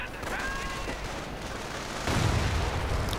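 Grenades exploding in a World War II real-time strategy battle, a dense wash of gunfire and blasts that swells louder partway through, with no clear voice.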